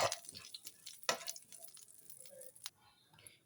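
Cumin seeds roast in a pan for a veg burger, giving a close crackle and light sizzle with sharp stirring scrapes, loudest at the start and near the one-second mark, then a quieter sputter.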